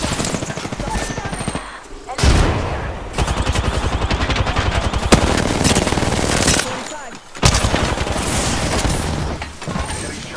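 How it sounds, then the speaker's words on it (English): Heavy, nearly continuous automatic gunfire in an Apex Legends battle, with rapid loud bursts broken by brief pauses, close and intense, and a voice speaking intermittently beneath the shooting. "Getting shot."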